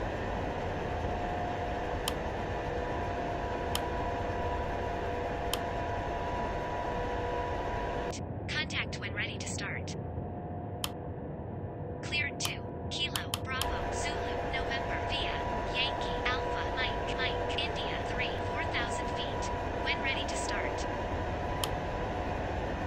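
A Boeing 787-9 taxiing to the gate in a flight simulator game, its steady engine and airflow drone running throughout with a brief dip in the middle, while radio-style voices talk over it.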